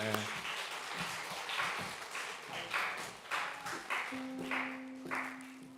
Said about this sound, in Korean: 박수 한번 쳐주겠습니다.